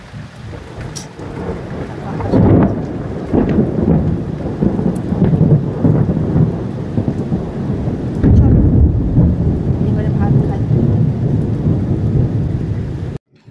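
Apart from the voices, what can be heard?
rain and thunder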